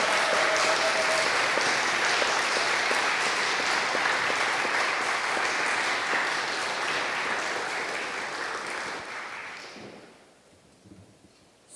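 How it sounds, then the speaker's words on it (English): An audience at a church talk applauds steadily for several seconds, then the clapping thins out and fades to near silence. "Maybe another round of applause here."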